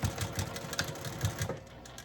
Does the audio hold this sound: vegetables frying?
no